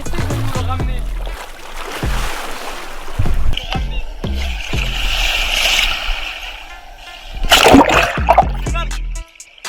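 Water splashes and sloshes in a lake near a prison in Marseille as someone wades and searches the bottom, with bursts of louder splashing and stirring close by, broken by brief voices.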